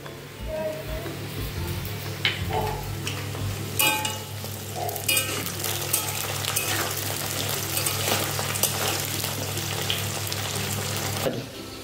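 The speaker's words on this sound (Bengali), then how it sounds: "আলুগুলো আমার ভাজা হয়ে গেছে। এবার আমি চিড়ে রাখা কাঁচা লঙ্কাগুলো এবার দিয়ে দেবো।" Potatoes and green chillies fry in a pan, a busy crackling sizzle with scattered stirring knocks, running steadily before cutting off near the end.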